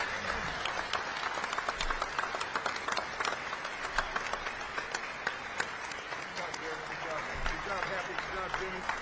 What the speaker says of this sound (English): Please, one more time, a round of applause for this incredible panel remembering Hayden Fry.